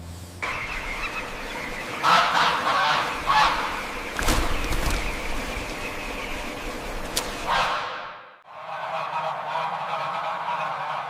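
White geese honk loudly and repeatedly inside a large farm barn, a dense flock calling over one another nearby, the din dipping briefly before resuming.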